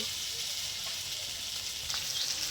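Onions and potatoes fry in a pan with green chilli, turmeric and red chilli powder while being stirred, giving a steady close sizzle with faint scraping.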